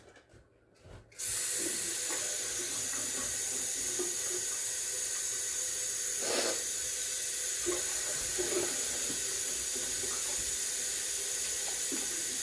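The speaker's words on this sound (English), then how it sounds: "you want to add some water to get it above the stock" Water runs steadily from a tap or jug into a pot of campfire beans and stock, a continuous close hiss after a brief quiet start, with faint clinks partway through.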